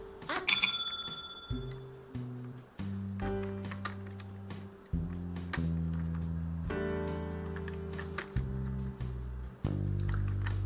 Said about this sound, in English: When he's hungry, he will ring the bell.